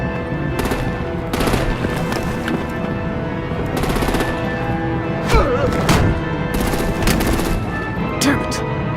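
Rapid automatic gunfire rattles through a Batman: The Enemy Within battle, loud, sustained bursts in quick succession with several sharper cracks cutting through the steady clatter.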